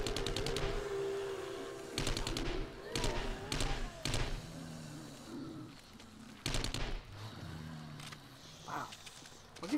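An SMG in 7 Days to Die spits several short, sharp bursts of rapid fire separated by pauses, loud against a low background hum, with some talk in between.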